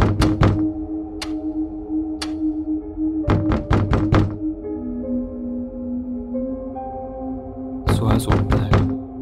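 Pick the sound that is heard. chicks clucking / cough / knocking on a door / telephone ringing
knocking on a door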